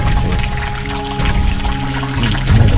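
Spring water drips and trickles steadily into a small pool outdoors, a close, continuous watery splashing with no talk.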